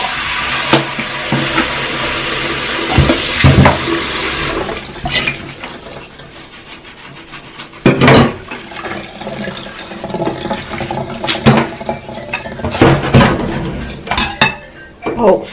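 Water runs from a tap in a kitchen, a steady, loud rush at first, then breaks into splashing, clinking dishes and clattering sounds up close.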